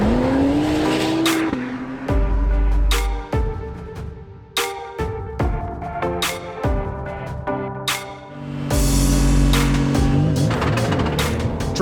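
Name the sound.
race car driving at speed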